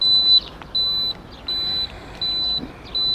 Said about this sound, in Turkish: sinyallerini de yakalım dörtlerine. Bip bip bip. Ne kadar kuvvetli ötüyor ya.